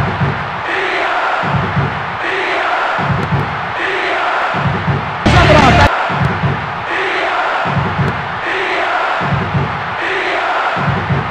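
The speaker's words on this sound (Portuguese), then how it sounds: "A torcida." A chanting stadium crowd in Winning Eleven 2002 on PS1 during a Milan versus Atlético de Madrid match, rising and falling in a steady looping rhythm, loud and continuous, with one brief sharp burst midway.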